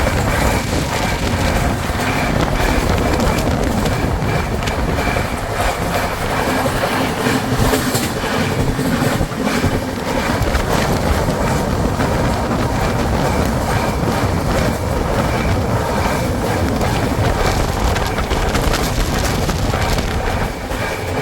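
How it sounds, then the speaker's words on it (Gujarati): A passenger train bound for Mumbai running at about 115 km/h in the evening, heard from on board as a loud, continuous rumble with rattling wheels and clattering carriages throughout, no talking. "આપણી ટ્રેન એકદમ રમઝમ સ્પીડમાં છે અને મેં સ્પીડ ચેક કરી તો 115ની સ્પીડ ઉપર ટ્રેન ચાલે છે"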